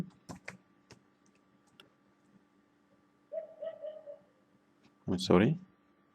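A few scattered clicks of typing on a computer keyboard, faint and sparse, with a longer stretch of near silence and a brief voice near the end.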